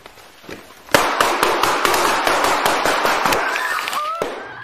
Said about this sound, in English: All three were struck by gunfire.